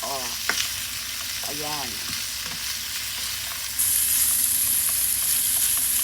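Green beans and pork sautéing in butter in a pan, a steady close sizzle and crackle throughout that brightens partway through, with a brief spoken word near the start.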